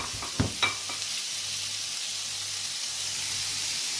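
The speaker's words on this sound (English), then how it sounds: "Now I'm adding in 500 grams of mutton mince." Mutton mince, 500 grams, dropped into hot cooking oil in a pan, opening with a couple of sharp splattering hits, then settling into a steady, close hissing sizzle.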